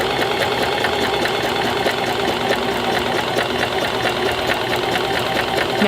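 Sewing machine stitching a zipper sack, running steadily and loudly up close with a fast, continuous mechanical rhythm for the whole stretch.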